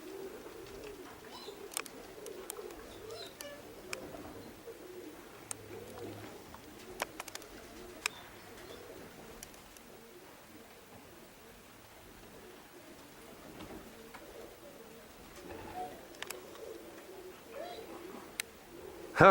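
Racing pigeons, young birds in a high-mountain loft, coo softly and steadily in the background, with occasional sharper taps and clicks scattered through a quiet outdoor setting.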